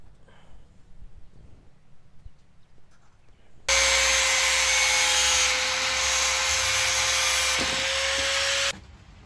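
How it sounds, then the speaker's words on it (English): Angle grinder cutting through PVC pipe for a quail waterer build, a loud steady high-pitched whine that starts abruptly after quiet background, holds for about five seconds with a slight pitch drop, then stops. "cut them with the angle grinder"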